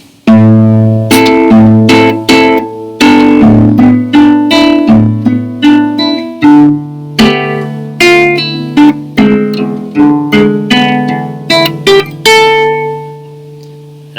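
Guitar playing a single-note melody line, plucked notes in a steady rhythm with clear attacks and ringing decays, close and loud, with no talking.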